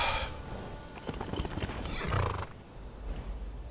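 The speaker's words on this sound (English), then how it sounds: "What's your name, horse?" A horse in the video game Skyrim whinnies loudly close by, with a rough, drawn-out neigh over clip-clopping hooves and some background game noise.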